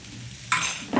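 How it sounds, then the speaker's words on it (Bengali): Flattened rice pulao with sugar and ghee stirred in a hot pan, a spoon scraping and rustling through the rice over a soft background hiss, close and brief. "চিড়ের সঙ্গে খুব ভালোভাবে আমি মিশিয়ে নেব"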